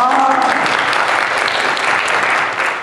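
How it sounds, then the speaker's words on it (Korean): A church congregation bursts into applause during a Sunday service, dense steady clapping filling the room loudly, with a few voices briefly heard under it at the start. "박수 한번 하십시다"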